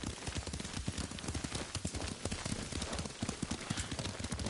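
Horse hooves clip-clop in a steady galloping rhythm while riding in the video game Ghost of Tsushima, loud and close throughout with dense continuous ambience.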